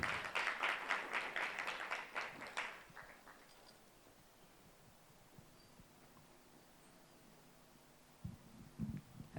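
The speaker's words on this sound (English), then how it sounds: "A round of applause for her as she comes." Round of applause from an evening event audience as the vice chair of the board walks up to give closing remarks, dense clapping for about three seconds then fading into quiet room hum.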